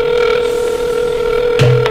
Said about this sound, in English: Let's call Molly. Okay, we're calling Molly